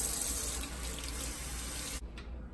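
Hot water pours steadily from a tap to wet a cleaning cloth, a close, even hiss of running water for about two seconds before it cuts off abruptly.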